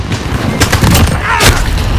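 Loud, close gunfire rattles out in rapid overlapping shots and bursts, with a heavy boom near the end, during a shoot-house firefight in a military shooter video game.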